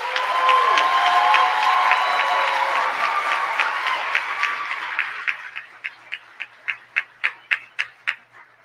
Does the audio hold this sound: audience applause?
yes